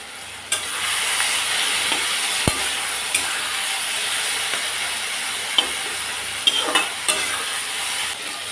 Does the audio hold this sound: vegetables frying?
yes